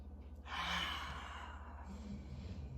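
A person in a yoga stretch draws in a deep breath through the nose and lets it out slowly, soft and close, with a faint low hum underneath.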